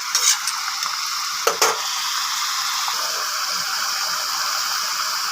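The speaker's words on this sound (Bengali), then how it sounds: "ভালোক্ষণ নাড়িয়ে নেব।" Mixed vegetables for a vegetarian sabji are stirred in a pan over a medium flame, a soft steady sizzle with a couple of sharp scraping clinks of the spoon near the start.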